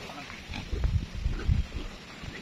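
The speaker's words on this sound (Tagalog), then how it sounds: "Ito yung pinakamataba niyang baboy, oh." A large, fat farm pig grunts and oinks close by in several low, rough bursts, with faint background noise between them.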